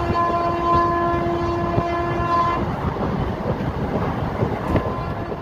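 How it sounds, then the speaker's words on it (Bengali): A train runs through Murshidabad district with a steady, loud rumble and wheel noise, while a sustained horn tone sounds for the first half before giving way to continuous rolling clatter. "সিগন্যালিংয়ের সমস্যা না থাকায় কোনো বাধা বিপত্তি ছাড়াই ট্রেন এগিয়ে চলেছে মুর্শিদাবাদ জেলার উপর দিয়ে"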